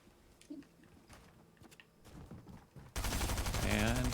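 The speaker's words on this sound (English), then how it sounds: "There's some shooting going on around me here." Gunfire in a Fortnite custom lobby match erupts around the player, starting as scattered distant shots and swelling into a loud, dense burst of nearby shooting near the end.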